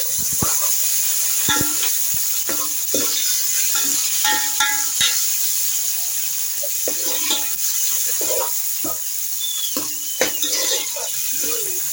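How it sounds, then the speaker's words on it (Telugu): Onions and green chilies frying in a pan, a steady close sizzle that runs throughout, with scattered clinks and stirring sounds on top. "ఆనియన్, పచ్చిమిర్చి అయితే వేగుతున్నాయి కదా"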